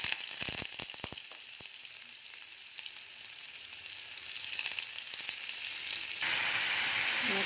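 Whole spices fry in mustard oil with a continuous loud hiss, a cluster of sharp utensil clicks early on, and the sizzle growing denser toward the end.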